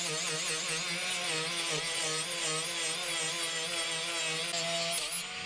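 A small Milwaukee rotary hand tool spinning at around 5,000 RPM scrubs rust off the metal of an old Ford RS spoke steering wheel, giving a steady, close, high-pitched whirring grind that holds without a break.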